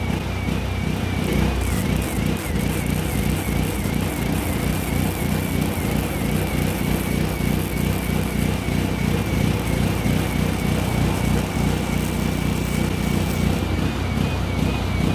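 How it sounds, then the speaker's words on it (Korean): A steady, loud engine drone from an engine-driven welder runs throughout with a constant mechanical rumble and a faint high whine, holding a raised, revved pitch as the welding voltage is turned up. "지금 엔진 소리 들으셨죠? 엔진 소리가 지금 많이 올라가요"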